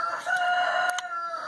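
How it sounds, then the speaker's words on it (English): A rooster crows once, a short, fairly close call, clear and alone with no talking. "There we got another rooster."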